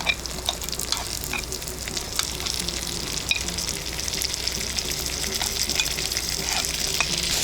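Chopped mushrooms hitting a pan of already-fried onions, sizzling and crackling steadily and loudly at close range, with occasional scrapes of stirring and no voices.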